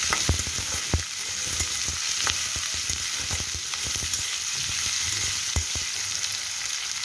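Thick-cut garlic fries in about two cups of hot oil, giving off a dense, continuous close sizzle with scattered sharp pops and crackles throughout.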